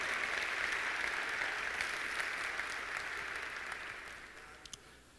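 Church congregation at a Baptist service clapping together, a broad wash of steady applause that slowly fades toward the end, with a few last scattered claps.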